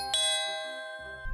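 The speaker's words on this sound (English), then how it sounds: "The doorbell. We have visitors." A doorbell gives a clear two-tone ding-dong chime inside a house, the bright tones ringing out and fading over about a second, followed by a soft thump.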